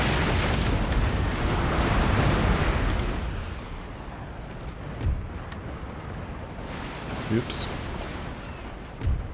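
Naval cannon fire in the video game Napoleon: Total War. A loud, rumbling broadside barrage dies down into a few scattered booms, and someone speaks over it briefly.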